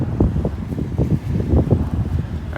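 Wind gusts on a beach, buffeting the microphone with loud, continuous low rumbling in irregular pulses and no other sound.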